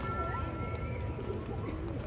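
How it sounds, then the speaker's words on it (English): Pigeons coo in a dense flock near a cathedral in San Salvador, soft rounded calls overlapping continuously against a steady outdoor background with faint distant noise. "I have never seen so many pigeons."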